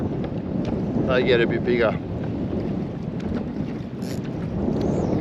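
Strong wind roars steadily across a microphone on a boat during perch fishing, with the rain approaching; the gusting rumble stays loud throughout while someone speaks briefly over it.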